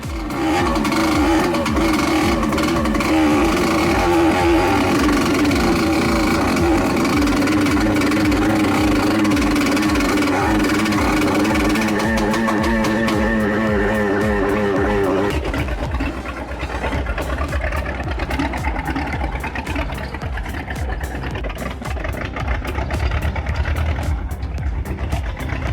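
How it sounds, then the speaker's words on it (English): An old Soviet engine roars steadily, loud and close for the whole stretch, its pitch and texture shifting partway through as it keeps running without any talk. "Today, that same engine roars back, a rusty heartbeat from the past, proving that simple Soviet steel can still wake and pull with power."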